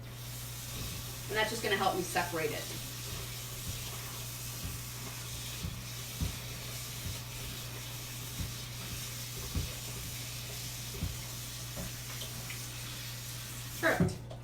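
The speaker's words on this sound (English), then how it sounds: "I'm just gonna run it under some hot water" Hot water runs steadily from a kitchen tap over cooked macaroni pasta, a continuous hiss with occasional clinks and splashes while someone talks briefly.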